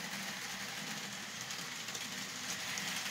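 N scale model train running on an Oregon City layout, a faint steady rolling rumble and hiss that carries on evenly throughout with no voices.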